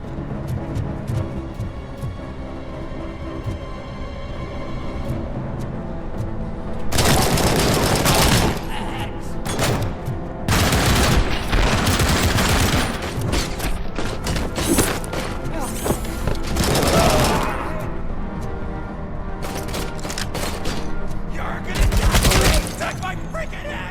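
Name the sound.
heavy machine gun firing in video game Robocop Rogue City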